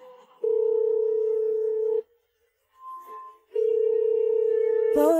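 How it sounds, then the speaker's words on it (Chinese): Steady electronic phone ringback tones sound in long flat pulses with a silent gap between them while an unanswered call rings on, ending in a brief clatter. "暖暖，暖暖，你接电话啊，暖暖。"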